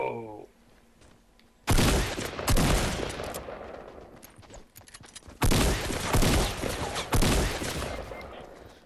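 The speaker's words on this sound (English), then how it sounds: "It's me shooting at a dude." Gunfire in a video game shootout, heard as loud bursts of rapid automatic fire separated by quieter gaps with faint game ambience underneath.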